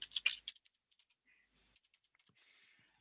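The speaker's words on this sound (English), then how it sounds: "all you need to type in is ANZ country kit." A short burst of computer keyboard typing, a dense flurry of close keystrokes up front, then sparse faint clicks trailing off in a quiet room.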